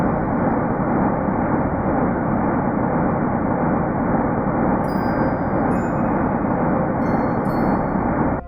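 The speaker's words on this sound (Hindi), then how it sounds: "यह है ब्रह्मांड की आवाज।" Sonified rendering of the early universe, roughly 380,000 years after its birth, heard as a steady, dense, roaring broadband rumble that holds evenly throughout, with faint high flickers partway through.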